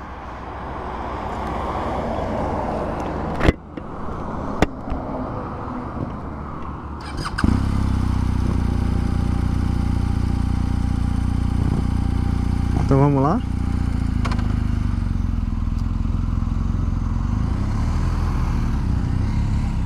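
BMW R1250 GS Adventure motorcycle starts quietly, then revs hard into a loud, steady engine roar with a brief rising whine mid-way as it accelerates, close to the rider, with speech over it.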